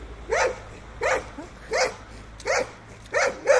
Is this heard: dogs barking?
yes